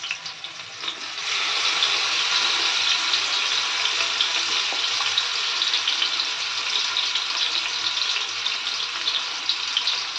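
Tandoori chicken pieces fry in mustard oil with a loud, steady hiss that swells after the first second and holds at an even level throughout, with no voices.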